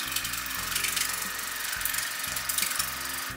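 A BerZalah cordless water flosser pulses on normal mode in someone's mouth, giving a steady, close, rapid mechanical buzz with a rhythmic pumping chatter throughout.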